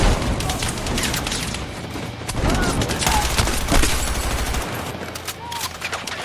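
M16 rifles fire in bursts during a chaotic video game battle at Hagental Base, a loud, dense crackle of overlapping gunfire and booms filling the whole stretch while players talk over it.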